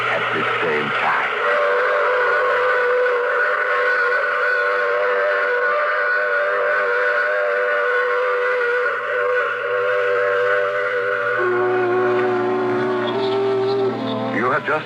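A long steam train whistle from a radio drama sounds loud and sustained for most of the stretch, its chord shifting near the end, with a voice speaking over it.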